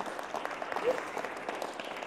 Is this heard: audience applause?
yes